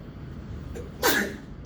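A single sharp sneeze bursts out in a quiet lecture room, preceded by a faint intake of breath.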